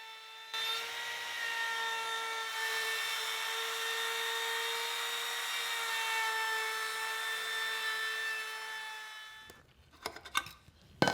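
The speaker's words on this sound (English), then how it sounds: "I'll use a roundover bit in the router to soften the top and bottom edge" A steady, high-pitched whine of a router with a roundover bit cutting a wooden tabletop edge runs continuously for about nine seconds, then stops, followed by a few short knocks and clatters.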